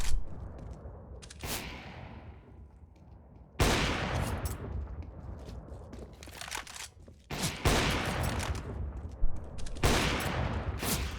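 Rapid bursts of video game gunfire from a player jump shooting while aiming down sight, crackling in dense volleys with brief gaps, loud and close throughout.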